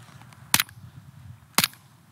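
Two sharp gunshots muffled by four stacked pillows, about a second apart, each a brief loud crack with a short tail, close by against quiet room tone.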